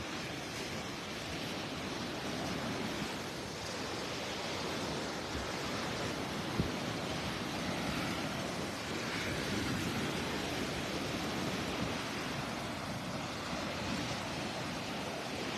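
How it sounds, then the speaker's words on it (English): Ocean surf at a North Naples, Florida beach at daybreak makes a steady, enveloping wash of breaking waves with no voices, rolling on evenly throughout. "Listen to those waves"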